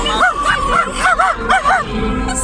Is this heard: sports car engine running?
no